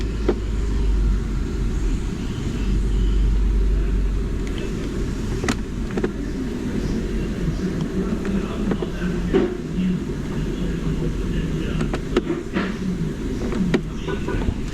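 A BMW 535 idles steadily with a low, continuous engine rumble while the driver tries to shift it into gear, with a few faint clicks and knocks over the hum and no talking.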